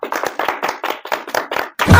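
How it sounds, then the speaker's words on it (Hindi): Chewing tobacco slapped in an open palm, sounding just like clapping: about seven sharp, close slaps in a steady rhythm, followed by a louder, denser burst at the end, with no talking. "यह तमाकू पीटिया है, हम समझे ताली बजावत हैं"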